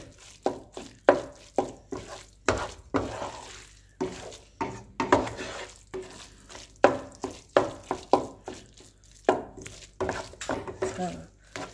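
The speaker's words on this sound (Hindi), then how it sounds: "बस इसकी बाद में थोड़ी सी भुनाई करनी होती है, जो कि जैसे मैं कर रही हूँ" Egg and onion bhurji stirred in a pan with a spatula, giving repeated rhythmic scraping and clinking strokes against the metal about once a second, close and fairly quiet under a faint background.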